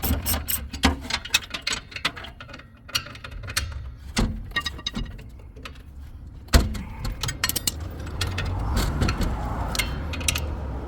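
A ratchet wrench works loose the four bolts on a trailer axle backing plate, with bursts of clicking ratchet strokes, metallic clanks and handling noises close by.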